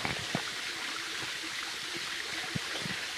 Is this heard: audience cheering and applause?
no